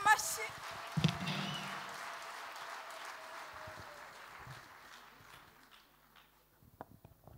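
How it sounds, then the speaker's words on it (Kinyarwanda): A church congregation breaks into applause during a sermon, with a loud opening burst of clapping that thins and fades over several seconds while people's voices carry through. "Dukomere Imana yacu amashyi"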